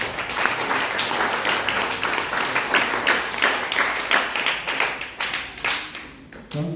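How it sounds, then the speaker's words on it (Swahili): A church congregation applauding Roda Jiji, many hands clapping in a loose, rhythmic beat that stays strong before tapering at the close. "Wacha tupigie makofi Roda Jiji"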